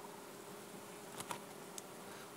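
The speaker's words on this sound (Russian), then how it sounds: "Пчелы заходят сюда и выбирают." Honey bees buzz in a steady, faint hum around hive frames at an apiary, with a couple of brief louder passes as individual bees fly close.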